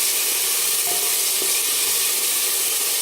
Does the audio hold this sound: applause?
no